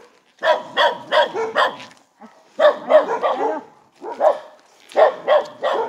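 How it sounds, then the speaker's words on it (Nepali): Dogs bark insistently at trekkers on a Nepali hill trail, firing off loud, close bursts of several sharp barks with short pauses between volleys. "कुकुरले चाहिँ हामीलाई यहाँ भुकेको भुकेकै छ"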